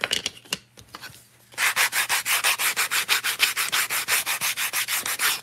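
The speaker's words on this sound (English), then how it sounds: "And I've noticed over the years as I sand, especially an edge like this" Sandpaper rubs back and forth along the beveled edge of a small wooden miniature piece, a few scattered scrapes and then a fast, even run of close, crisp strokes.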